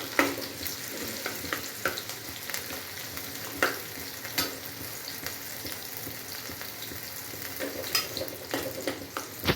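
Onion and garlic fry in a pan for a chicken sukka dish, a continuous close sizzle broken by repeated scraping and clinking as the pieces are stirred, with no talking.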